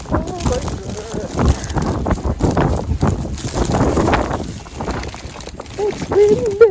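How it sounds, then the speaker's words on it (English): Strong wind howls through a blizzard snowstorm, a steady rough roar with gusts buffeting the microphone, while a person talks over it at times. "It's windy."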